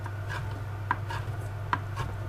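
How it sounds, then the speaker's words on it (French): A knife chops seaweed on a cutting board for a seaweed tartare, giving a handful of light, irregular taps over a steady low hum, close and fairly quiet. "ce que je vais faire, c'est couper mes algues. Donc là, le but, c'est vraiment de les hacher."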